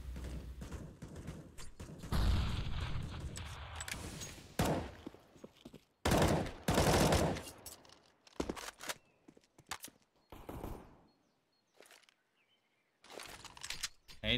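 Pistol gunfire in a Counter-Strike match on the Inferno map, heard as loud bursts of shots and impacts. Sharp clusters separated by short gaps run through the passage, with footstep-like thuds and game noise in between.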